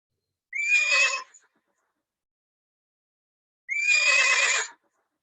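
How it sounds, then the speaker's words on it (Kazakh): A recording of a foal neighing plays back: two separate high, shrill whinnies, each about a second long, loud and close with silence between them. "Бұл жылқының төлі, құлынның дауысы екен."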